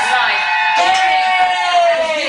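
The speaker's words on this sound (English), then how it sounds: "Cheering! That's cheering." Studio audience cheering and whooping at a televised Big Brother eviction, a loud continuous roar of voices with shouts rising through it.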